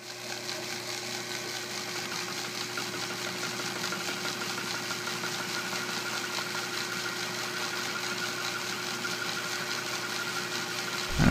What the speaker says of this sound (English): And just start milling in the notch.